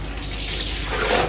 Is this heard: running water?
yes